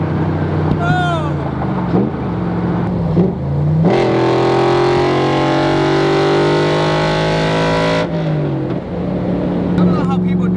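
A 600-horsepower Coyote V8-swapped Shelby Daytona pulls hard, its loud engine note climbing steadily for several seconds before backing off, with lower idle-like rumble before and after the run.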